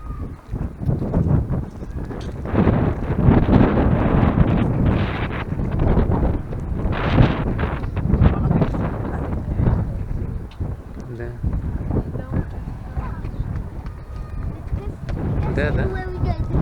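Strong wind buffets the microphone by the sea, a heavy continuous rumble with gusts throughout, while people talk intermittently over it.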